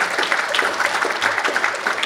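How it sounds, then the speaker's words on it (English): Audience applause for storyteller Will Hill at a writers' award event, a steady dense clapping that fills the whole stretch without a break at moderate loudness. "Give him another round of applause"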